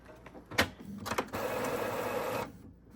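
An Epson EcoTank 15000 printer whirs and rattles as it pulls paper through, with a few clicks first and then a steady mechanical hum for about a second before stopping.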